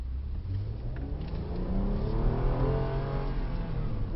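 A 2012 Hyundai Veracruz engine revs up under hard acceleration, a steady mid-pitched roar climbing in pitch over several seconds, heard from inside the car with no voices.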